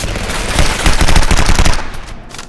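Enemy weapons fire in Halo on Legendary difficulty: a loud, close, rapid automatic burst rattling continuously for about two seconds, then trailing off.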